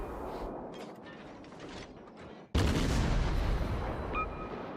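Naval gunfire in World of Warships lands on an enemy ship as a sudden loud boom. It follows mechanical clatter and keeps rumbling afterward, with a short metallic ping near the end.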